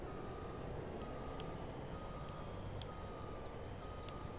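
A truck's reversing beeper in Farming Simulator 22 pulses steadily and clearly above a constant engine rumble, with no talking.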